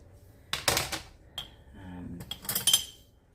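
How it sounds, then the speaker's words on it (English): Metal tasting spoons clink and rattle in a jar in a home kitchen, with a few close, bright bursts of clattering separated by short pauses and no talk. "So I keep a jar of tasting spoons handy that I only use for tasting"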